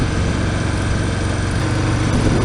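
A 2018 Harley-Davidson Breakout motorcycle engine drones loudly and steadily while riding, with a constant rumbling tone and heavy wind rush throughout, no gear changes or pauses.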